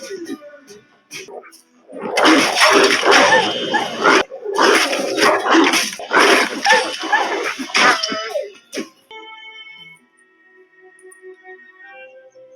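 Wild dogs in The Witcher video game snarl and bark in a loud, dense burst of growls and yelps during a fight, fading to quiet game ambience at the end.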